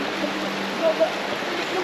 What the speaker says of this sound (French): Il y a du courant et effectivement il y a beaucoup de courant.